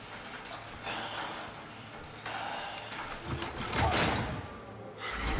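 Cranking a mechanism in the video game Outlast Trials: a faint, uneven run of ratcheting, clanking mechanical clicks with brief louder bursts, quiet and close with no talk.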